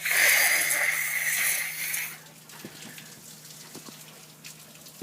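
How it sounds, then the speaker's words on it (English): Heavy rain pouring outside in Pensacola, a loud dense wash of water for about two seconds that then drops to a quieter patter with scattered drips. "It's just pouring outside."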